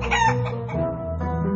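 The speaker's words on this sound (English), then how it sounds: "The haystack is moving! And clucking!" Cartoon chicken Chicoletta clucking from inside a haystack, a loud, close, tonal squawking call that rises and dips in a couple of short bursts with no talking over it.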